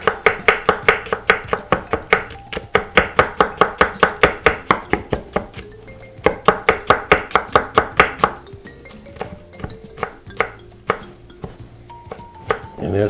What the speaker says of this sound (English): you just chop it up